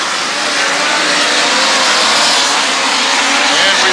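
Power I midget race cars roar around the dirt track at Valley Speedway, a loud continuous blend of engines at full throttle from a close trackside spot.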